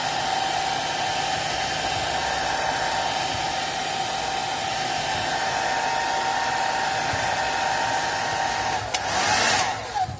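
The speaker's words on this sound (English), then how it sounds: "First I will give heat all over the edges, all around the edges, all sides." A heat gun blows steadily and loudly for about ten seconds, warming the edges of a Samsung Galaxy Note 20 Ultra's back glass, with a hiss that swells briefly near the end as it moves.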